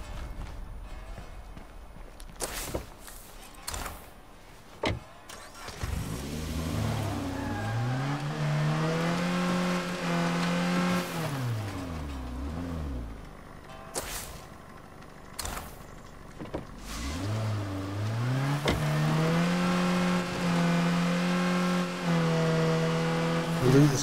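A car engine in the video game State of Decay 2 drives away from a trailer park. It revs up and down in long rising and falling sweeps, sometimes holding steady, with a few sharp knocks and thuds along the way. No one speaks.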